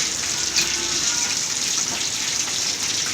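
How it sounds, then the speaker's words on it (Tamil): Water is poured into a pan holding a ground coconut and poppy seed paste while cooking, producing a steady, close hissing gush that runs the whole time with no talking. "இந்த தண்ணி கொஞ்சம் ஊற்றி கலரிக்கலாம்."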